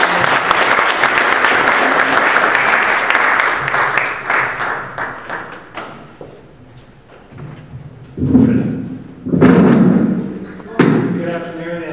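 Audience applause greets a senator arriving to speak at a health policy event, a burst of close, crisp clapping that thins and fades out, followed by the speaker beginning to talk into a microphone.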